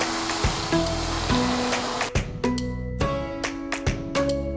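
Hot water poured into frying masala for Bengali chicken korma crackles and spits in sharp, irregular pops over a steady sizzle, close and fairly loud, with no talking.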